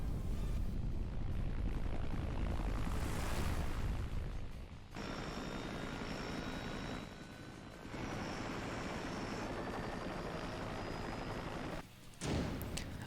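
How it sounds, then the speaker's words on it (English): Helicopter boss from the Ninja Gaiden Sigma video game at a military supply base, a loud rotor and engine roar with whining tones, a sharp drop near the middle and a burst near the end. "And here it is, the helicopter."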